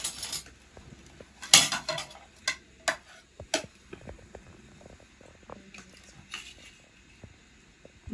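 Spoons and dishes clink while chicken biryani is served at home, with scattered sharp metallic taps and scrapes of cutlery on plates and pots, some loud and close, others softer, in an otherwise quiet room.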